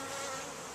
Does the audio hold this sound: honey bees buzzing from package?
yes